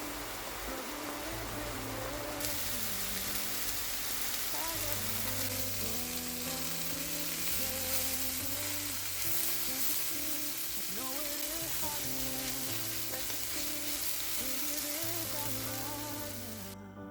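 Mushrooms sauté in a pan in a ground meat and pasta recipe, making a continuous soft sizzle and hiss that runs the whole time beneath gentle background music, with no speech.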